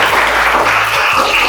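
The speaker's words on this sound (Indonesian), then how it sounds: "Tepuk tangan buat." Applause from a classroom of students at a Hindu religious education lesson, a steady burst of clapping filling the short moment without any talk.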